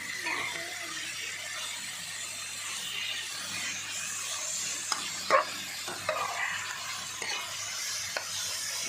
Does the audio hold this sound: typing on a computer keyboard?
no